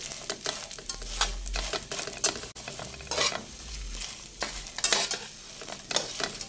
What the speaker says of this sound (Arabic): حطيت له معلقتين سمنه كده حلوين بلدي طبعا. وكده انا يعني بحمصها كده شويه